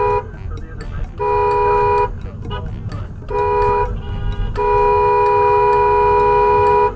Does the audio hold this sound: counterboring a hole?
no